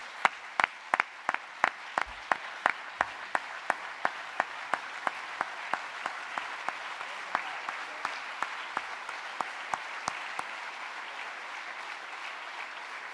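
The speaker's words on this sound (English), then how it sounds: "let's get up and give this guy a big round of applause as the 24th IFSO president" A seated crowd at a medical society's presidential session gives sustained applause for a newly installed president, dense clapping with sharp individual claps standing out, steady throughout and slowly thinning toward the end.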